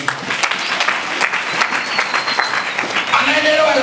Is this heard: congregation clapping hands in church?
yes